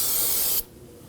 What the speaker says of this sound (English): clean everything up here using some spray solvent